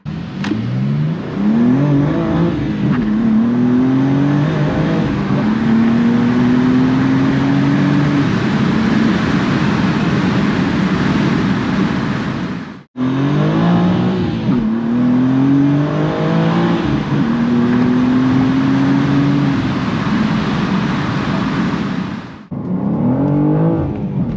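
A 2023 BMW M2 G87 accelerates hard through several rising gear pulls, its engine note climbing loud and close, with short breaks at the shifts and a brief lull before the revs build again.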